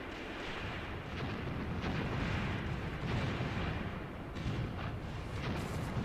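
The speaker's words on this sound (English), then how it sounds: "tanks are shooting a lot now, including with their main gun" Tank main guns fire in the Graviteam Tactics war game, with heavy booms and rumbling blasts rolling one into another over a dense, continuous battle roar that stays steady and moderately loud throughout, no talking.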